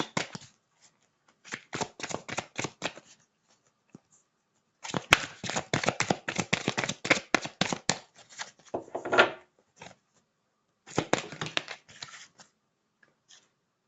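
Tarot or oracle cards being shuffled and drawn, with quick riffling bursts and soft flicks in clustered runs separated by pauses, close and fairly quiet, with no talk.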